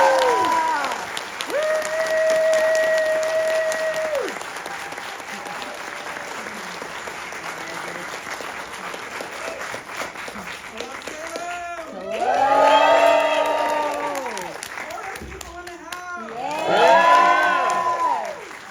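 An audience gives roaring applause to welcome a keynote speaker at an evening lecture, loud sustained clapping through most of the stretch, with swelling bursts of cheering and whooping near the end.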